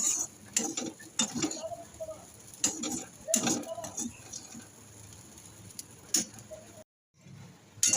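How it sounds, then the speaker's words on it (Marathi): Sabudana khichdi with potato and peanuts is stirred in a pan, with intermittent scraping and soft clatters in short bursts, a faint sizzle underneath and a brief silent gap near the end. "आणि आता हिला छान परतून द्यायची जोपर्यंत ही सॉफ्ट होत नाही तोपर्यंत. कंटिन्यू असं हलवत राहायचं."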